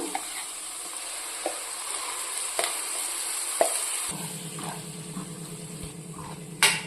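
Masala paste for a catering-style brinjal curry goes into hot oil and fries with a steady, close sizzle, broken by a few light clinks and scrapes of stirring; the frying grows thicker and busier partway through.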